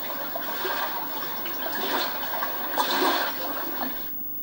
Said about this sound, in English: So let's see, lapping water.